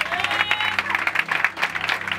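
A church congregation at a Brazilian evangelical vigil claps vigorously, a brief dense burst of applause with a sustained musical tone beneath it.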